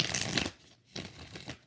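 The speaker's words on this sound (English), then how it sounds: "4 shuffles" Tarot cards shuffled during a live reading, a few quick crisp riffling bursts, soft and close, with short pauses between them and no talking.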